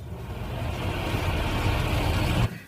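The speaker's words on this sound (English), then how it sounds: "Whenever a microwave is set into action, you get between 10 seconds and 30 minutes of humming." A running microwave oven gives a steady broadband mechanical hum for a couple of seconds, close and even, then cuts off abruptly.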